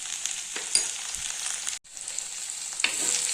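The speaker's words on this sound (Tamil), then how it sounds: "இந்த மாதிரி நல்லா வதக்கிக்கணுங்க." Okra sautés in sesame oil with a steady, bright, close frying sizzle, a few stirring scrapes, and a brief drop-out midway before the hiss returns.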